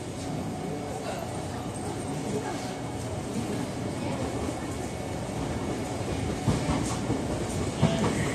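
A JR East 209 series Chuo-Sobu line local train pulls into its terminal at Nakano station, giving a steady rumble and faint rail clatter with a few clanks near the end, heard from on board.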